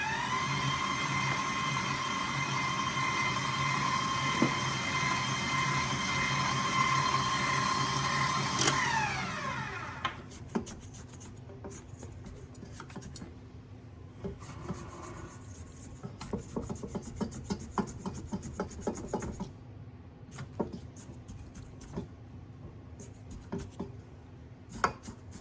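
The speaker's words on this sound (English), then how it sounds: "Now we got to get this stirred up till it makes a nice soft dough in there." Thumbprint cookie dough for fruit-filled cookies is stirred in a bowl, a steady rubbing, scraping rasp that runs continuously at first, then breaks into irregular scrapes and knocks, fairly close and without talk.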